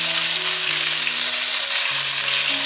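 Steady, dense sizzling of potato pieces pan-frying until golden, continuous and close throughout, with faint low tonal hum beneath.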